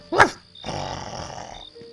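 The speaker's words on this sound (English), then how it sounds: "There was a dog" One short, sharp dog bark, then a softer growling or rumbling sound.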